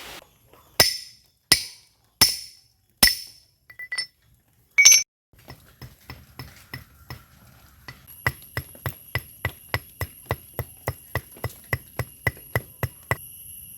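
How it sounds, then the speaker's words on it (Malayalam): Metal wire is cut into pieces with a chisel: a few sharp, ringing metallic strikes come close up, then a long, even series of lighter tapping blows follows. "നമുക്കിത് ഉളി വെച്ചൊന്ന് കട്ട് ചെയ്തെടുക്കാം."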